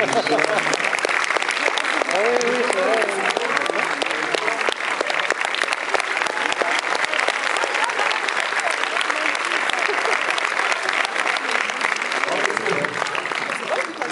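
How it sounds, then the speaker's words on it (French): A crowd gives a long, sustained round of applause, dense and even for about fourteen seconds, with a voice faintly heard early on beneath the clapping. "On peut l'applaudir"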